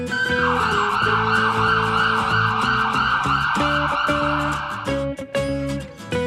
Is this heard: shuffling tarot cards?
no